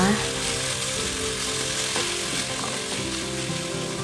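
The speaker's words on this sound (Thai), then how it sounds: "จากนั้นก็ผัดต่อไปเรื่อยๆ ค่ะจนหมูของเราสุกนะคะ" Minced pork is stir-fried in a pan, sizzling steadily throughout, with scraping stirs of a utensil against the pan surfacing in the middle, while someone talks over the cooking.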